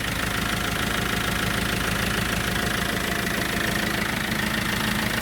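An Iveco Daily van's diesel engine idles close up after ten months unused, a steady rough knocking chug with a ticking exhaust leak, running evenly throughout.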